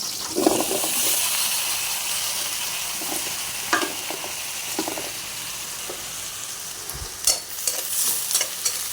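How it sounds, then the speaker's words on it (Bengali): Pointed gourd (potol) sizzles steadily in a hot pan, with a constant frying hiss broken by occasional stirring clinks and scrapes. "ভেজে নেব"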